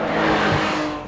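A Porsche 911 GT3 RS roars along winding Isle of Man mountain roads, a loud, close engine howl with a faint tire hiss, steady for about a second before easing slightly.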